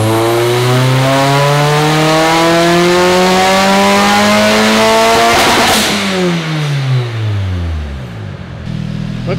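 A fully built Nissan S15 Silvia on a dyno, its engine revving loud and close as the pitch climbs steadily under full throttle, then drops sharply as it backs off.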